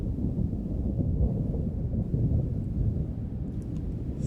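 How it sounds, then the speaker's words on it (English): Low, continuous thunder rumble rolling steadily without a sharp crack, heavy and sustained at a fairly loud level, with faint higher clicks near the end. "thunder."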